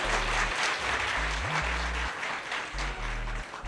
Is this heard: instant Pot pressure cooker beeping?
no